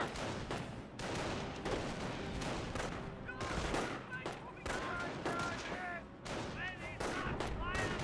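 A Volkswagen vehicle firing away in the Company of Heroes video game, with steady rattling bursts of automatic fire amid battle noise and occasional heavier blasts, continuous and fairly loud, with some talk.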